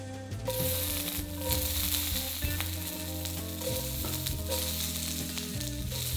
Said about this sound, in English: And then crisp in the pan.